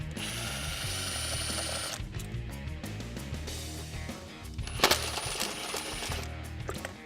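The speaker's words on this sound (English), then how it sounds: "from here we'll grab an 8mm socket and then remove all of the bolts" An 8mm socket on a ratchet backs out coil pack bolts on a 2011-2014 Mustang GT engine, with fast clicking ratchet bursts, brief pauses and a small metallic clink near the end.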